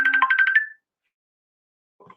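A phone ringtone plays a short bright electronic melody of quick repeated notes, loud and close, then cuts off into silence before a faint brief sound at the end.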